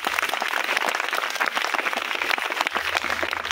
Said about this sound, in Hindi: सभी बच्चे जोर से तालियां बजाइए